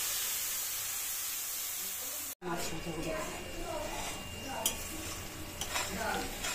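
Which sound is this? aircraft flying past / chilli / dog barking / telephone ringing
chilli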